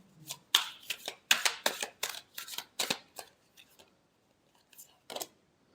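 Tarot cards are shuffled close by: a quick run of crisp riffling bursts and slaps, loudest at first, then thinning into a few faint flicks.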